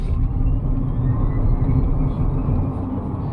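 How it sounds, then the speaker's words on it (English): Electric motor of a RADAR RD6 car accelerating in sport mode, a steady low rumble with a faint rising whine, heard from inside the cabin. "You get a futuristic sound coming from the electric motors."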